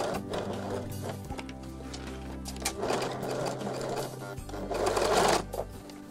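A sewing machine stitches fabric for a child's dress, running in several short bursts of rapid, rhythmic needle clatter with brief pauses between, close and clear, with no talk.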